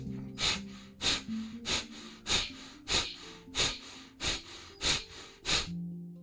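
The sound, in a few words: rapid forceful exhaling, fire breath breathing exercise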